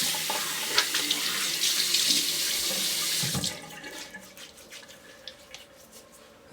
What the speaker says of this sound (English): I'm going to rinse with cold water this time.